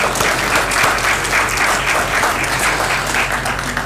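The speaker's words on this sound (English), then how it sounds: "So clap for her, please." Audience at a regional justice symposium clapping loudly and continuously, a dense wash of many hands close by with no pause.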